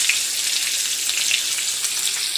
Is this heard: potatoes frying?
yes